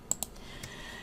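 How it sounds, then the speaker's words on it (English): Mouse clicks during shift-click selection of pieces in Cricut Design Space: two quick, crisp clicks close together, then a softer third click, with no talk. "So shift click to get all 5 of them."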